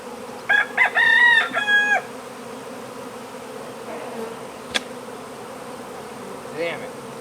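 Agitated bees drone in a steady low buzz that runs the whole way through, with a brief crowing call rising near the start and a sharp click later.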